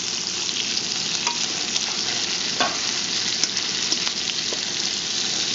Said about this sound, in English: so we're browning those down.